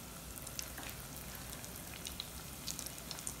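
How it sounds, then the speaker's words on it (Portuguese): Coxinhas fry in hot oil with a soft, steady crackle and scattered small pops, quiet and continuous with no voices. "Coloca umas coxinhas pra fritar."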